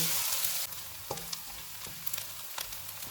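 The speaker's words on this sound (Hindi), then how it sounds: "ऑयल गर्म हो गया, इसमें एक प्याज डालेंगे। इसको 2 से 3 मिनट तक फ्राई करेंगे।" Chopped onion sizzling in about four tablespoons of hot oil for desi-style chicken pasta, with a steady crackling hiss and a few sharp clicks of a utensil against the pan, close and alone.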